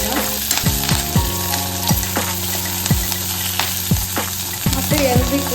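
Chillies, garlic and curry leaves crackle in hot tempering oil, a loud close sizzle with repeated metallic clinks and scrapes of a stirring spoon against the pan and no voices.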